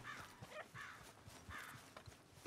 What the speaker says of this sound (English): I hear a crow for sure